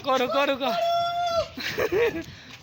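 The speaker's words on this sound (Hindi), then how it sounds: "ओए दोनों मुर्गे बाहर आकर लड़ने लग गए।" Two roosters squabbling and crowing close by, with harsh warbling calls over someone talking excitedly throughout.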